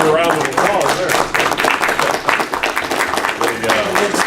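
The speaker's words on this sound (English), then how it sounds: "that'll deserve a round of applause there" A village council meeting crowd gives a round of applause, dense steady clapping mixed with voices speaking over it.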